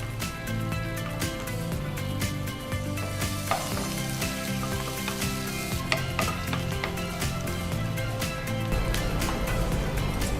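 Onion frying in hot oil with fenugreek leaves gives a continuous loud crackling sizzle that runs unbroken throughout, over a steady tonal layer underneath.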